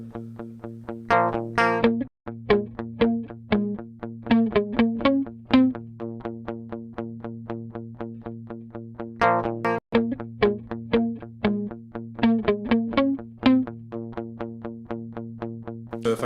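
Electric guitar with distortion and chorus effects overdubbed on a Headrush looper, playing repeated rhythmic chord stabs and picked notes over a sustained low drone, loud and close with two brief dropouts.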